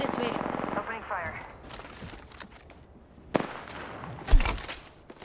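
Bursts of automatic gunfire in Apex Legends, sharp cracks and short rattling volleys scattered through the clip, with in-game voice lines and ambient battle noise underneath.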